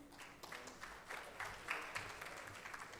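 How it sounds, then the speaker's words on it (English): Faint applause from a business conclave audience after a keynote speech, scattered clapping heard at a distance with uneven bursts throughout. "Huge round of applause for our keynote speaker"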